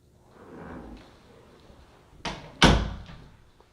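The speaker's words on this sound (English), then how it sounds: "we're going to come out of this door" A door in a rental home swings and shuts with a sharp bang near the end, preceded by a softer thump and faint handling noise.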